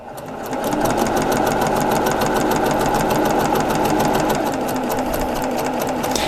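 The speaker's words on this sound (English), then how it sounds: "So let's sew these pieces together" A sewing machine pieces a seam in a vintage quilt block with a fast, steady, close mechanical whir. Needle strokes pulse rapidly and evenly for the whole stretch, with no voices.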